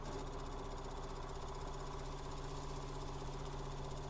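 A tractor engine in Farming Simulator 19 idling with a steady, low mechanical hum and a faint whine, even and unbroken with no voices.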